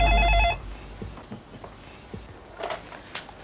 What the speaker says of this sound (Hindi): तुम्हारे लिए फोन है, ऐश्वर्या का